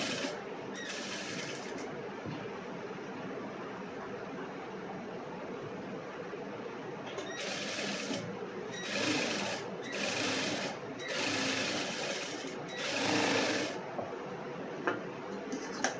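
Sewing machine stitching a cross-cut blouse: several quiet bursts of rapid mechanical whirring, a short run early and then a cluster of stop-start runs near the end, separated by soft handling noises.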